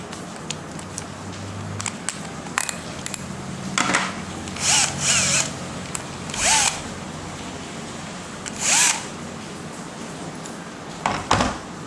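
A Bosch drill driver, used with an X-Line Classic 34-piece accessory set, runs in several short whirring bursts separated by pauses and faint handling clicks.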